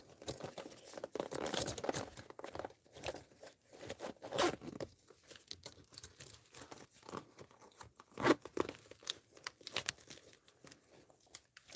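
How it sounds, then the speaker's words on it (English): A zipper drawn shut on a bag holding a portable 20-watt GMRS manpack radio, several quick close zipping pulls mixed with crinkling and rustling of fabric, fairly quiet throughout. "Zip this up."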